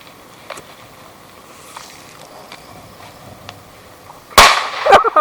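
A firecracker goes off outdoors with one sharp, loud bang near the end, followed by a second crack, after a stretch of quiet ambient noise with faint ticks.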